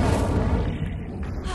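In Hogwarts Legacy, an Incendio fire spell bursts out as a dense, rumbling whoosh, a short loud blast of flame sound that fills the moment with no clear talking over it.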